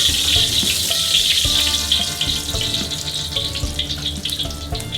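Ginger frying in cooking oil for seafood pakbet, a bright, steady close sizzle with occasional soft pops and a faint bubbling undertone, easing slightly toward the end.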